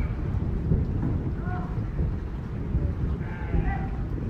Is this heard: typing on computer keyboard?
no